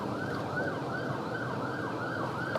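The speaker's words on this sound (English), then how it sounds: "because there's an ambulance, so you're supposed to pull over" Ambulance siren wailing in traffic, a steady rising-and-falling electronic tone repeating in even cycles, heard from some distance at moderate volume over low road rumble.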